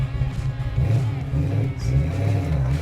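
A Fox Body/SN95 Ford Mustang 5.0L V8 fitted with a Steeda #18 camshaft idles with a choppy, uneven lope. The rumble is loud and close, its low pulses rising and falling.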